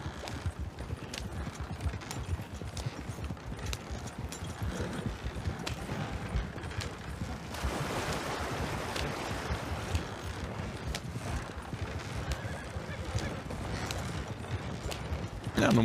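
Horse hooves clip-clop steadily in the open-world Western video game Red Dead Redemption 2, a continuous rhythmic trot under wind and ambient game noise.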